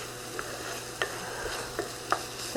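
Ginger, garlic and green onions frying in a pan, a soft continuous sizzle with a few brief scraping stirs of a utensil, close up and with no voices.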